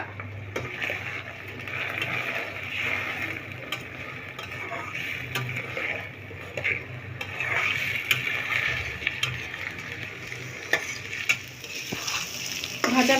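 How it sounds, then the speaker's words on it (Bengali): Rice and mung dal frying and being stirred in a pan for pulao: a steady close sizzle with scraping stirs and occasional light clicks throughout, no talking. "খুব সুন্দরভাবে চালটা ভাজা হয়ে গেছে, ডালটাও ভাজা হয়ে গেছে"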